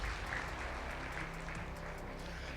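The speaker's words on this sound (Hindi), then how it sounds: "एक बार तालियां।" Applause from an audience seated in a hall at a Modicare business seminar, a steady dense wash of clapping that holds at an even level throughout.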